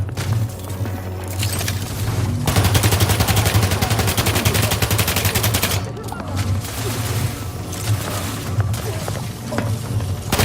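Sustained rapid automatic gunfire rattles through a firefight in Outer Worlds 2, dense bursts loud and close over rumbling game ambience, briefly easing before resuming.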